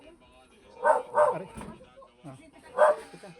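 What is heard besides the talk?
dog barking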